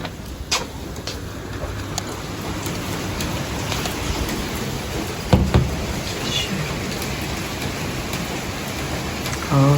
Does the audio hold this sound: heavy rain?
yes